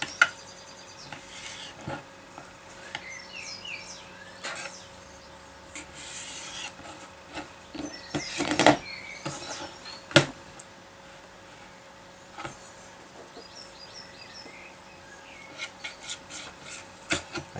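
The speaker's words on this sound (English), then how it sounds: "Trim it up." A long sharp knife trims a trout fillet before home cold smoking, giving quiet, irregular scraping and rasping strokes close by, with occasional light taps on the board.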